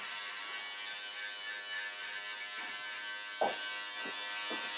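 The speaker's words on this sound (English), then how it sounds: "just keep clippering away until you feel like you're not hearing as much of the hair being cut" Electric hair clippers cutting a man's hair, a steady close buzzing hum running throughout with a few brief louder snips and bursts near the end.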